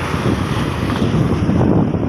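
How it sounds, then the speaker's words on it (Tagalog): Strong waves and gusting wind at the shore in Nasugbu, Batangas, a loud continuous roar of surf with heavy wind buffeting the microphone throughout. "Lakas ng alon, no?"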